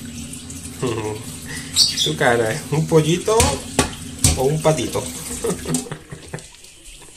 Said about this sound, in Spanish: vamos a echar la agüita